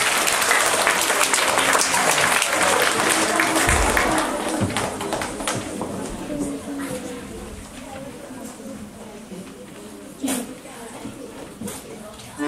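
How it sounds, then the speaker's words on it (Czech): An audience at a school concert applauds an accordion competition prize winner, with dense, loud clapping at the start that gradually thins and softens, plus a few scattered claps and a brief knock later on. "Takže tleskáme jí a vítáme jí."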